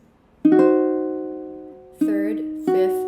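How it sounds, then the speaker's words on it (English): A diminished triad in first inversion, third, fifth and root, sounded on a keyboard: one sustained chord struck and held, then struck twice more in quick succession, each slowly decaying, clear and close with no talk. "Now, a diminished chord in first inversion sounds like this."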